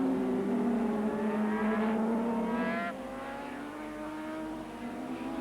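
A Yamaha Grand Prix racing motorcycle, number 59, runs at Oran Park during a 1982 race, its engine whining high and revving up and down through gear changes before fading slightly as it moves away.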